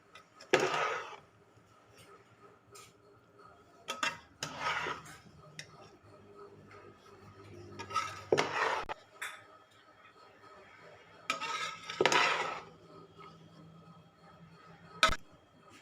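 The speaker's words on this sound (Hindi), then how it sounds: "मिक्स कर लिया है, बाकी चम्मच की मदद से मिक्स कर लेंगे।" A spoon stirs chicken fried rice in a pan, several separate scraping, clinking bursts spaced a few seconds apart with quiet gaps between, close and fairly soft.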